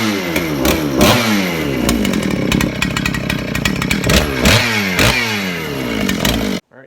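A Husqvarna 394 chainsaw converted to a big bore runs loud and close, its engine revving up and down in rough pulses, then cuts off abruptly at the end.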